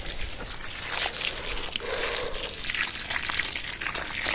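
Water from a pipe pours into a planting hole dug for a passion fruit vine, a steady splashing, gurgling rush that runs continuously at close range with no talk.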